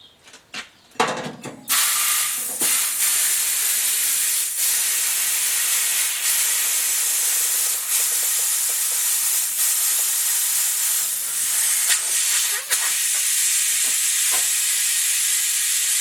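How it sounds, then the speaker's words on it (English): Air hisses steadily and loudly into a tire's inner tube through the valve on a military 5 ton truck wheel, a constant close rush after a few brief knocks at the start, with no talk. "We're just going to start inflating that tube and get the tire puffed up a little bit."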